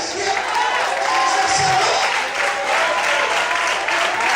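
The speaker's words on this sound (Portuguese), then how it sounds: "Quem crê, bate palma" A church congregation applauds during a pastor's sermon, dense sustained clapping filling the room with voices mixed in beneath it.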